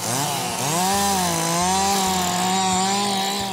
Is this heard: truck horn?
no